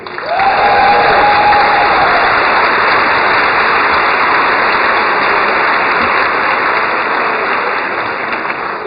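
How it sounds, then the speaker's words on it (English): Sustained applause from a sizable crowd, steady and loud throughout, with a brief whistle near the start. "Can I have another round of applause for our musicians?"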